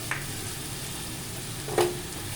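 Bhola fish curry with coriander leaf paste simmering in a pan, a soft steady sizzle with a couple of brief scraping stirs of a spatula, fairly quiet and without speech.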